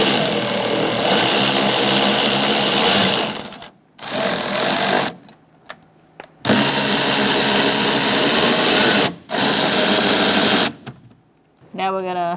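A power tool with a 10mm socket whirs in long bursts to remove nuts from the rear door of a 2004-2009 Mazda 3, loud and close, with short pauses between runs.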